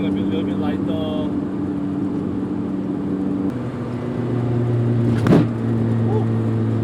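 Inside a Proton Satria with a 4G92 MIVEC engine and its carpet and sound deadening stripped, a steady engine hum and road noise fill the cabin, with a brief rev-like swell midway and someone talking over it.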